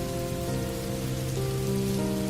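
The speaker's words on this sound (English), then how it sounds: "The rain is really coming down, isn't it?" Heavy rain pours down in a steady, dense hiss, with a low droning hum running underneath.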